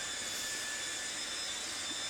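A drywall sanding machine whirs continuously with a steady, airy, high-pitched drone, unchanging throughout and with no voices.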